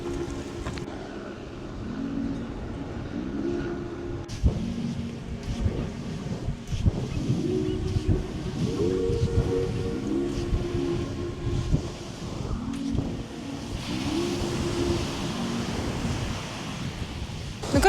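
Sea waves wash onto a Barcelona beach under gusting wind buffeting the microphone, a continuous rushing surf with a louder wave toward the end.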